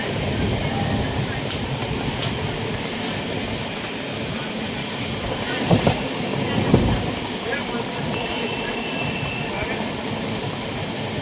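The MGR Chennai superfast express (12163) runs near Renigunta in heavy rain, a steady close rumble and rattle of coaches with a few louder clanks midway.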